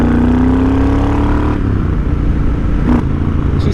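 Triumph Thunderbird 1700 parallel twin motorcycle idling loud and close, a steady low rumbling throb with a rising whine at first and a brief blip of revs near the end.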